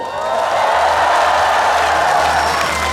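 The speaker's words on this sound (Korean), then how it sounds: "박수 함성." At an outdoor Geochang festival concert, a large audience keeps up a thick wash of clapping and cheering, loud and unbroken throughout, over a faint low hum from the stage speakers.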